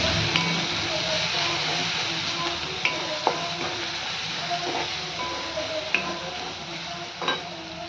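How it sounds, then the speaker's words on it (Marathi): Green chillies and crushed garlic with a pinch of asafoetida sizzle in hot oil for a spicy pithla, a continuous close crackle broken by a few sharp metal clinks of a spoon stirring against the pan. "थोडासा हिंग एकसारखं हलवून घेऊयात मिरची छान तेलात भाजली गेली पाहिजे"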